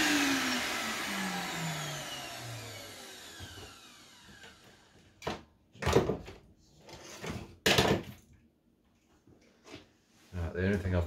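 A Screwfix Titan TT777VA vacuum cleaner motor whines down in falling pitch over a few seconds. Sharp knocks, clunks and clatter follow, close by and in a quiet room.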